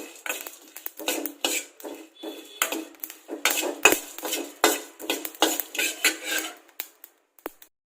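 Whole spices for sambar dry-roasting on low flame in a pan, with a steady run of scraping and clattering spoon-on-metal strokes in an irregular rhythm, close and fairly loud, no talking.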